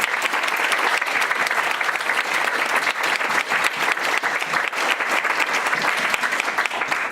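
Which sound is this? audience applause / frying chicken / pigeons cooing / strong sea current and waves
audience applause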